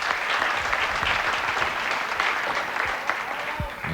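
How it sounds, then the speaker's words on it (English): Fans applaud steadily at a 1990 Glass City Open 9-ball pool match between Earl Strickland and Nick Varner, a dense, sustained wash of clapping from a sizeable crowd with a few brief voices near the end. "I think the fans will give him another big applause here."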